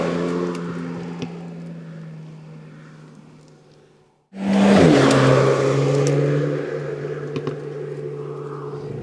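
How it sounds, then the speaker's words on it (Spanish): Renault Mégane RS Ultime engine and exhaust revving, a steady drone that cuts out abruptly, then bursts back as a loud rising rev and settles into a strong sustained hum, close and alone. "el escape suena bastante bien e incluso nos da algunos petardeos en los modos de conducción"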